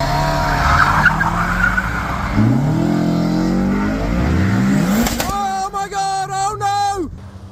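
A Mazda MX-5 sports car engine revs and whines with rising pitch sweeps, then tires squeal loudly in a sharp, wavering screech near the end.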